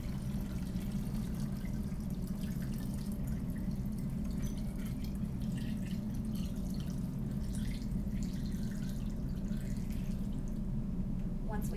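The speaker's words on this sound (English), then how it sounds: "use our funnel to pour in 1 liter of water" One liter of water is poured through a funnel into a plastic laboratory bottle, giving a steady, continuous trickling and splashing that holds at an even level throughout.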